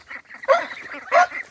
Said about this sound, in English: Come on, you crazy old geese and ducks.